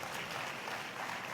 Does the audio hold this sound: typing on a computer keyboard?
no